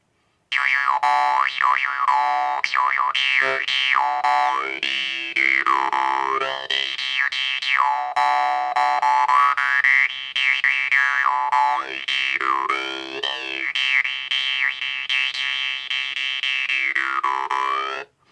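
A jaw harp twangs continuously, its buzzing drone shifting through wah-like vowel sweeps in a rhythmic, looping pattern, close and fairly loud.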